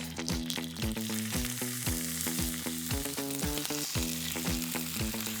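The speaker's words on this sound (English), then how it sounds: "That's the sound you want to hear, that beautiful sizzle." Salmon fries skin-side down in an oiled pan, giving a loud, steady, close-up sizzle that runs unbroken through the clip, with rhythmic tapping sounds over it and no talk.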